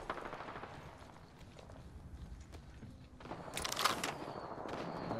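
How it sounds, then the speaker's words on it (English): Gunfire in the video game Apex Legends: scattered distant shots and bursts crackle over a busy background, growing denser and louder toward the end. "Gunfire, right."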